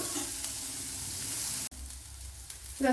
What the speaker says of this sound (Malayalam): ഇവിടെ ഉപ്പ് ഇട്ട് കൊടുത്തിട്ടുണ്ട് സവാള ഒന്ന് വഴണ്ട് വരണം